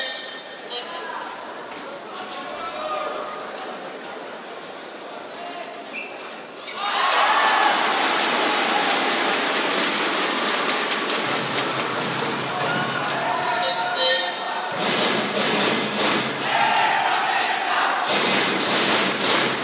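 Indonesian fans at the 2009 Badminton Asia Championships men's doubles final with Kido and Setiawan erupt into a loud, sustained roar after a quieter opening, surging and dipping in waves with a commentator's voice underneath.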